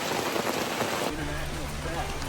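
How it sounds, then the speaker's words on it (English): Heavy rain pours down on a jungle trail in Samaná, Dominican Republic, a dense steady hiss that turns lower and rumbling partway through, with a faint voice in the background. "It's really raining"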